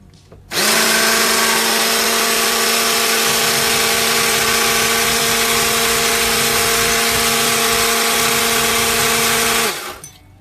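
Kalorik two-speed black hand blender, model CMM 39732 BK, running at its higher speed: a loud, steady motor whine with a sharp start and stop, running for about nine seconds alone.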